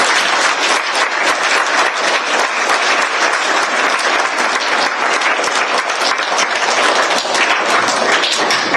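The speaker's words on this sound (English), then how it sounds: "can we give Mrs. Steele a round of applause" Sustained audience applause at a school ceremony, dense steady clapping from a large crowd for nearly nine seconds without a break.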